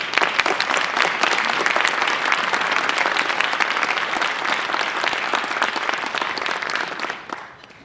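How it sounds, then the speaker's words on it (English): A conference audience gives a round of applause for panelists at a welcoming session, a loud, sustained crowd of clapping hands that holds steady for several seconds and then fades out near the end. "I hope all of you will join me in giving our panelists a round of applause"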